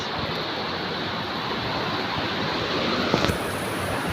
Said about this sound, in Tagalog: Grabe yung ulan oh. Pahangin, malakas ang ulan at hangin guys.